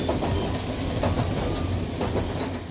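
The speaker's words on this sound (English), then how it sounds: "Rattling and whistling. Choo, choo, choo." A train rattles along with a steady clickety-clack of wheels over rails and a continuous rumbling roar, loud and close throughout with no talking.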